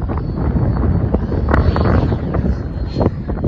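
Gusty wind buffets the microphone at an RC model flying field during the maiden flight of a Freewing Yak 90mm EDF jet powered by two 4S 5000mAh packs, a steady loud rumble with occasional sharper gusts and no speech.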